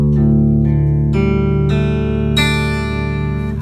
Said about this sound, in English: The Dadgad should sound like this.